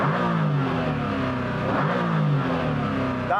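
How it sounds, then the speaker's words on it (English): Koenigsegg Agera RS engine revving continuously, a loud, close, growling roar rising and falling in pitch with repeated throttle blips, no voices over it. "I'm going to start off by revving up this Koenigsegg"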